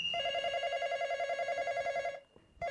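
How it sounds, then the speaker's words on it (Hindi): A phone rings with a steady electronic warbling tone for about two seconds, stops briefly, then starts again, fairly quiet and alone. "फोन बज रहा है तुम्हारा?"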